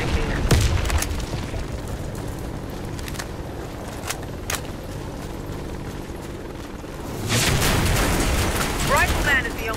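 Grenade blasts in the shooter game Warface, a deep boom early on and a heavier rumbling explosion later amid loud battle noise and scattered gunshots, with voices heard at times.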